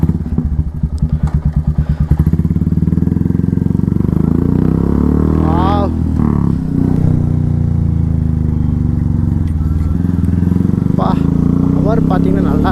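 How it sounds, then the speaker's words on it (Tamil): A Royal Enfield Classic 350 motorcycle with a loud modified silencer pops and chugs at idle, then revs hard and holds a deep roar; a voice talks briefly over it. "சைலன்ஸோட சவுண்டு பார்த்தீங்கன்னா நல்லா பயங்கரமாக கேட்குது."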